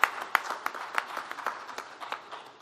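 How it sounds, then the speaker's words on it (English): Small audience clapping for equipment and metering manufacturers at a utilities talk, a sparse uneven patter of individual claps that thins out over a few seconds. "So a big round of applause for all these equipment and metering"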